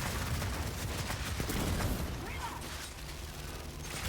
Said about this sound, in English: when firing the drop shot, you can fire it and then get into cover